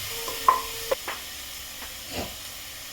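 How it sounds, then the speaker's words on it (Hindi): Soft, steady sizzling of onion, spices, ginger and garlic frying in a pan for egg biryani, with a few light clinks and stirring sounds, no voices. "अदरक लहसुन को मैं अच्छी तरह भून ली हूँ।"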